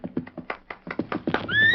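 A horse in an old Western radio drama clops and shuffles with irregular hoof taps, then lets out a loud, rising whinny close by at the end.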